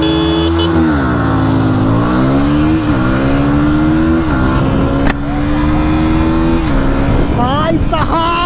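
A KTM Duke 160 and a Yamaha MT-15 roar hard in a drag race, engines climbing through repeated rising revs and gear shifts, loud and close, with someone talking excitedly over them.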